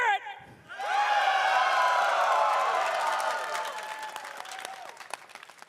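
After a brief voice, a large esports arena crowd at the TI12 Dota 2 playoffs erupts into loud cheering, whooping and applause. The roar holds for several seconds and then slowly fades under scattered claps.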